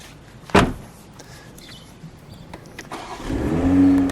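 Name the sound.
Toyota Supra GR A91 Edition door shutting and engine starting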